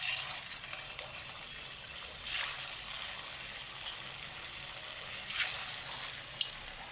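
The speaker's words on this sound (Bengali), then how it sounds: "আবার একটু হালকা তেলে ভাজবো" Langcha sweets, made with powdered milk, fry in oil with a steady soft sizzle and hiss that swells briefly a couple of times and has no talk over it.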